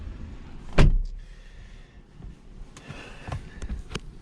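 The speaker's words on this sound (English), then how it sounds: "Hop in, and you close the door." A car door on a 2020 BMW 330i shuts with one firm thud near the start, followed by faint interior clicks and rustling in a quiet cabin.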